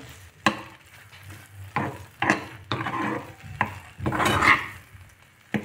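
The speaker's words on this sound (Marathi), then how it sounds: "तर इथे आता थोडंसं मिक्स करायचं, शिजू द्यायचं थोडंसं." A sweet sabudana dessert with crushed cashews and almonds being stirred in a pan, a spoon scraping and knocking against the metal in irregular strokes over a soft sizzle, close by with no talking.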